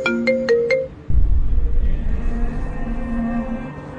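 A short electronic ringtone plays a quick run of bright, rising tones, then cuts to a loud rumble of engine-like background noise.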